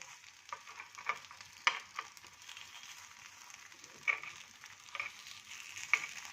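Green fenugreek flatbreads fry in oil in a pan with a faint, steady sizzle, marked by a few sharp taps and scrapes as they are flipped.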